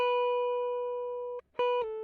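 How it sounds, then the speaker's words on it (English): A clean, dry electric guitar sustains one long steady note, pauses briefly, then plays two more clear notes, with no distortion or added effects. "Dry, the guitar would sound like this."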